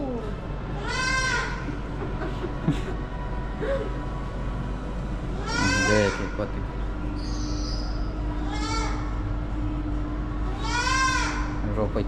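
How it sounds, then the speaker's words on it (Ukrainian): A goat bleats four times at intervals, wavering cries standing out over a steady low rumble and faint background talk. "тебе там уже коза гукає"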